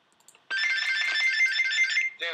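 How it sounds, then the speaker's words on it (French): A small telephone rings with a shrill, continuous electronic tone that starts abruptly and holds steady for about a second and a half, loud and close, then breaks off into a short burst. "Y a le téléphone qui sonne, attends,"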